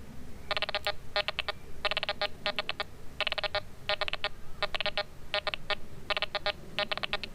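A Quest Q40 metal detector sounds its two-tone iron discrimination: quick bursts of rapid, stuttering electronic beeps repeating in clusters over a faint background hiss, with no talking.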